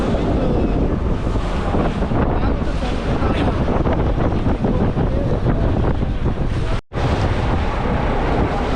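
A fishing boat leaves Bhanpat creek for the open sea off the Shrivardhan coast, producing a loud, unbroken roar of engine, wind buffeting and water that drops out for a moment near the end.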